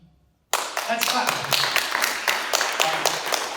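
Audience at a university welcome event for business transfer students clapping together, a dense, steady burst of many hands that starts abruptly after a brief silence and keeps going at full strength.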